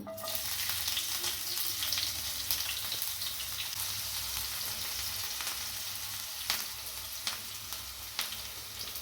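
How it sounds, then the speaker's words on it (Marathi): Onion sizzles steadily in hot oil, a close, continuous crackling hiss with occasional sharper pops and faint clinks. "तेल गरम झालं आपण सुरुवातीला कांदा घालून घेऊ"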